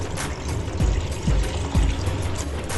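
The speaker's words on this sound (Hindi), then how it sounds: "ये 2 कप जो है वो मैं पानी ऐड कर रही हूँ" Two cups of water poured into a pan on a stove, a close steady splashing stream with three gurgling surges as the water lands.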